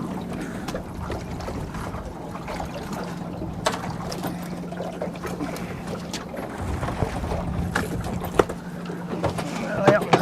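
Boat motors droning steadily nearby as they pass, with lapping water and scattered knocks; faint voices come and go beneath the engine hum.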